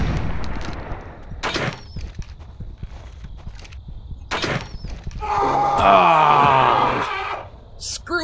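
Shotgun blasts go off in a Siberian wilderness video game, a few sharp separate bangs spread over several seconds, followed by a longer roaring, clattering burst.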